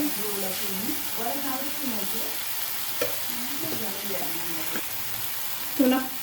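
Soft scraping and stirring of turmeric and chili powder in a pan for chickpea curry, with a faint sizzle underneath and a few light clinks of a spoon against the metal.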